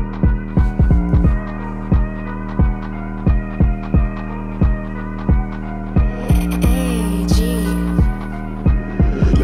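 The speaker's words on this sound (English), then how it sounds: "There's one thing that I love in the song is the bass." An aggressive hip-hop beat plays loud, driven by a booming sustained bass and punchy regular kick hits in a steady rhythm, with a brighter noisy layer entering in the last few seconds.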